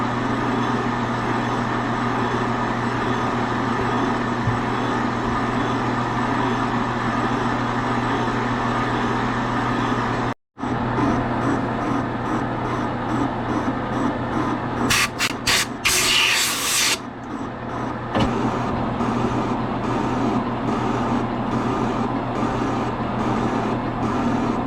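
A boring tool machining a Kawasaki KX125 two-stroke cylinder hums steadily through interrupted cuts across the ports, with a brief dropout and some louder scraping bursts midway, and no talking.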